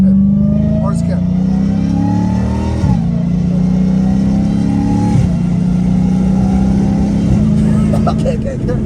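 An 800 HP Dodge Challenger Hellcat Redeye accelerating hard, its engine rising loud and close through several gear changes with brief dips between pulls, as people talk inside the car.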